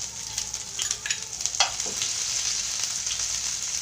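Garlic-ginger paste sizzling in hot oil with mustard seeds for a cauliflower and pea curry, a steady bright crackle with a few clinks and stirring scrapes, close and unvoiced.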